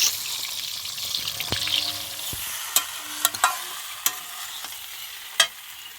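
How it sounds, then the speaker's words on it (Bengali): Egg curry sizzles in a pan, a steady frying hiss with scattered utensil clicks and taps, fairly close and with no voices. "এই যে ডিমের ঝোল করছি, আর কিয়ানের জন্য একটা ডিম পোস্ট করে রেখেছি"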